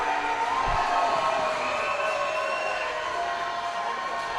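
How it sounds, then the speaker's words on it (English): Crowd at a wrestling event cheering and clapping, a broad distant roar of voices and applause holding steady and fairly loud throughout, with no single voice standing out. "He gets a round of applause."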